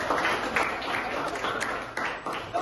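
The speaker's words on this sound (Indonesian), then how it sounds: "tepuk tangan buat kita" A seated audience at a teacher-training ceremony in Denasar claps together in a brisk, steady burst of applause. The clapping holds close and fairly loud throughout, with a few accented claps near the end.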